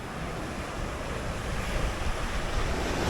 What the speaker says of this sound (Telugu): చూడొచ్చు ఎటు చూసినా మొత్తం సముద్రం.